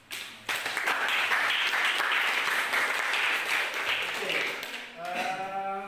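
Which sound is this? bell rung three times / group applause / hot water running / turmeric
group applause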